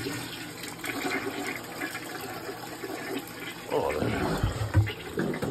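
A toilet flushes in a home bathroom, a rushing gurgle of water swelling partway through after quieter running water, close and moderately loud.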